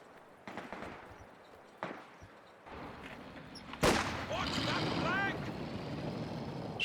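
Gunfire and battle noise from the real-time strategy game Company of Heroes 2: a few sharp shots early on, then a louder burst and a sustained rumble of combat with mechanical whines, fairly distant and quiet overall.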